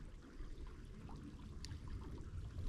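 A small stream in Saguaro National Park flows softly at sunset, a faint, steady trickle and wash of water with no voices, holding an even low murmur throughout.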